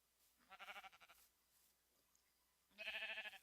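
Sheep in a farming video game bleat twice, each a quavering, wavering call, separated by a quiet gap and heard faintly at low volume.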